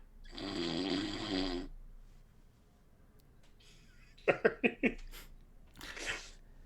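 During a Dungeons & Dragons livestream, a voice imitates an odd snore: first a long, rattling nasal snort, then after a pause a quick run of crackling clicks and a final breathy snort, all close and fairly quiet.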